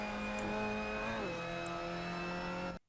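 A Mazda MX-5 Cup race car engine in Assetto Corsa on the Nurburgring Sprint pulls hard and loud, the pitch climbing then dipping briefly at a gear change before rising again, cutting off abruptly near the end.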